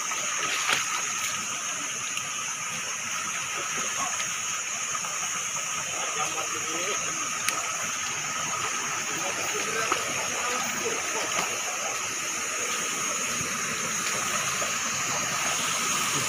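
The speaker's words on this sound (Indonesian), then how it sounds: "itu tempat air terjun ini" A waterfall at a scenic natural tourist spot, heard as a steady, loud rushing roar of falling water that fills the whole stretch without letting up, with faint voices occasionally beneath it.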